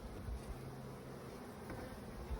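Honeybees buzz around an open packaged hive with frames of drawn comb, a steady low hum of many wings close by, with no voices.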